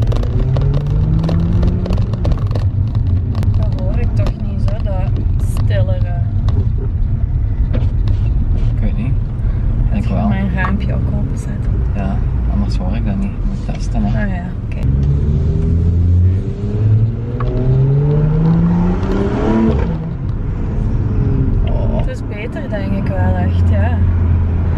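A BMW M235i's exhaust rumbles and revs, its pitch sweeping up and falling back several times, loud and close, while people talk over it.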